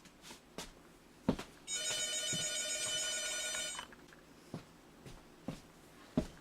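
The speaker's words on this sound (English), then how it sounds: "Oh, there's the phone." A telephone rings with a single long, bright electronic trill lasting about two seconds, fairly close, with scattered faint knocks and clicks in a quiet room before and after.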